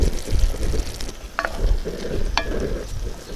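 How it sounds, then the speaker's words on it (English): Enchilada sauce simmers in a Dutch oven with a close, continuous bubbling and sizzling texture, broken by a couple of brief metallic clinks of a utensil. "So this has come up to a quick simmer."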